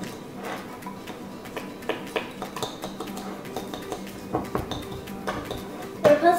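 A spoon clinks and taps against a bowl while a homemade face scrub is mixed, an irregular series of close light knocks and scrapes with no talk.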